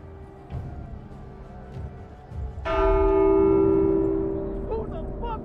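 A church bell in The Walking Dead: Saints and Sinners video game strikes once loudly and rings on with a long, resonant decay over faint background rumble.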